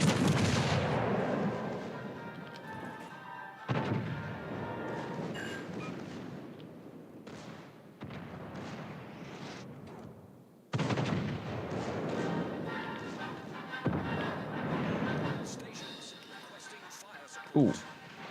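Naval guns in World of Warships: Legends, including armour-piercing shells fired at a Karabosk destroyer, boom repeatedly in loud, dense salvos with rumbling impacts, and people talk throughout.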